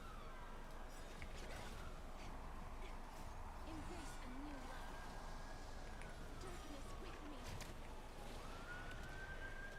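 A police car or ambulance siren wails in the distance, faint and rising and falling in long sweeps beneath a steady background hiss and some voices.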